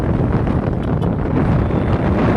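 Strong wind on the Panguil Bay Bridge in Lanao del Norte buffets a phone microphone, making a loud, constant low rumbling roar with no voices.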